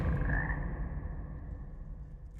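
A frog in Hogwarts Legacy gives a loud, steady, drawn-out croak that fades slightly over a couple of seconds, with no talking.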